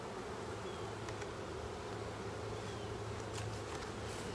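A honeybee swarm fans at the front and top of a hive, giving a dense, continuous buzzing hum with faint higher whines, steady and close throughout.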